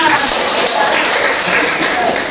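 Classroom applause, a dense burst of clapping from many hands at close range, steady for about two seconds.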